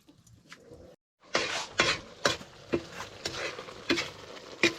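Adobo with coconut milk bubbling and simmering in a pan, a steady soft sizzle with repeated stirring scrapes and utensil clinks close by, after a brief quiet pause.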